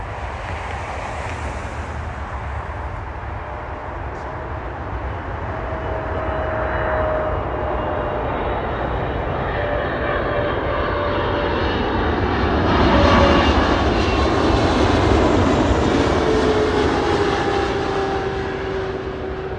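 A PIA Boeing 777 arriving from Lahore touches down at Toronto Pearson, its jet engines roaring loud and steady with a rising whine and rushing wind-like wash throughout, swelling near the middle as the airliner passes close.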